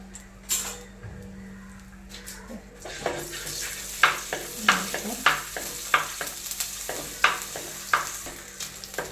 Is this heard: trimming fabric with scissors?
no